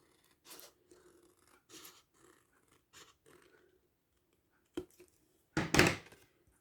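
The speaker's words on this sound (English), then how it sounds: "so I'm just going to trim that off" Scissors trim overhanging paper off a scrapbook album page with a handful of quiet, separate snips and pauses between them, ending in one louder, closer cut.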